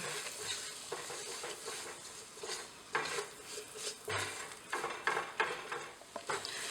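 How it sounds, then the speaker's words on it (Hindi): Plain white flour stirred and roasted in melted butter in a pan for a vegetarian lasagna, with a spoon scraping in uneven bursts over a soft, steady sizzle, fairly close and moderately quiet, with no talking. "तो इस मैदे को हमें अच्छी तरह से रोस्ट करना है।"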